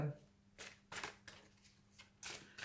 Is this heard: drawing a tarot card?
yes